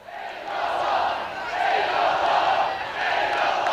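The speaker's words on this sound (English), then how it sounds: "And listen to that crowd." A big crowd at a senior football grand final between Sandhurst and Eaglehawk in Bendigo roars continuously, a dense sustained wash of cheering that swells and dips, with little distinct speech.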